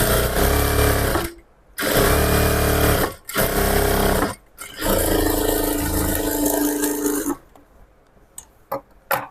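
A sewing machine stitches a straight pant hem in three loud, rapid bursts of whirring, broken by short pauses, then gives way to quieter handling and clicks near the end.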